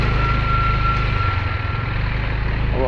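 Motorcycle on a landslide-damaged mountain road in the Cordillera, its engine idling with a steady low throb and a faint high whine, close and continuous with no talk.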